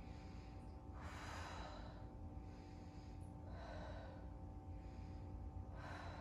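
Slow, deep breaths drawn in and pushed out while holding yoga boat pose, with three broad exhales spaced a couple of seconds apart, close and clear over a steady low background hum.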